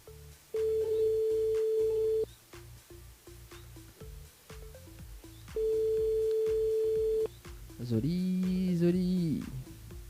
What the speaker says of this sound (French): on appelle Josette sur le standard de l'émission